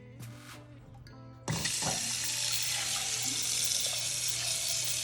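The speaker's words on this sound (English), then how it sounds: "And then add some cold water." Cold tap water gushes steadily into a pot while cooking ackee and saltfish, a loud continuous rush that starts abruptly after a brief clatter and keeps running to the end.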